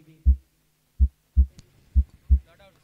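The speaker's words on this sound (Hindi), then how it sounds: "दिल की धड़कनें तेज होती भी." Heartbeat sound effect played during a cricket third umpire review at a village tournament match, five deep, loud thumps at a steady pulse, standing alone over faint background hum.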